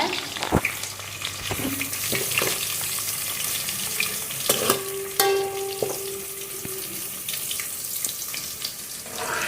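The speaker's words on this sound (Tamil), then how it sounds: "சின்ன வெங்காயம் போட்டுக்கலாம். அடுத்து நல்லா பொரியட்டும்." Small shallots frying in hot oil for a Tamil red snapper fish curry, a steady sizzle and crackle with a few clinks of a stirring spoon and brief running water from a tap nearby.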